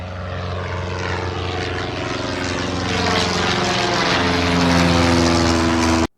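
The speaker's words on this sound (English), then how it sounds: "A for aeroplane." A propeller aeroplane drones loudly and steadily overhead, its engine hum swelling slightly as it passes close.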